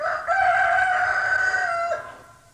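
A rooster crows once in a long, steady, close cock-a-doodle-doo that holds its pitch and then trails off, with no other sounds around it.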